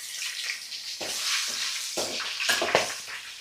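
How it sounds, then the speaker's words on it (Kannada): Curry leaves, garlic, cumin and pepper sizzling and frying in oil in a pan, a soft steady hiss with a few brief stirring scrapes, moderately close and without talk. "ಇದನ್ನ ಸ್ವಲ್ಪ ಬ್ರೌನ್ ಆಗೋವರೆಗೂ ಫ್ರೈ ಮಾಡ್ಕೊಳ್ಳಿ, ಬೆಳ್ಳುಳ್ಳಿ ಎಲ್ಲ"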